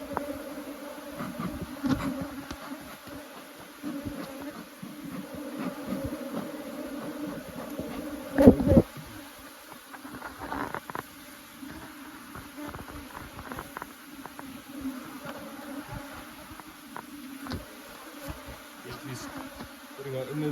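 Honey bees buzzing around an open hive during a honey harvest, a continuous dense drone close by, with faint handling knocks and a brief louder clatter midway.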